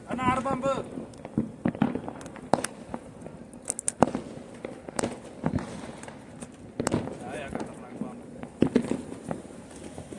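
Sharp Diwali firecracker bangs and crackles go off at irregular intervals, some close and loud, with people talking and moving around between the blasts.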